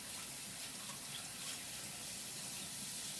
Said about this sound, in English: Wash this spoon off.